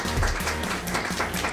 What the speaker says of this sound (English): Let's give our flannel graphers a big round of applause.